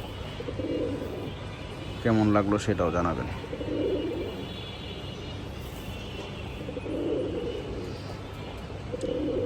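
Soft, low coos of Laldom and Kaldom high-flyer pigeons repeat every couple of seconds, with a person speaking briefly over them early on.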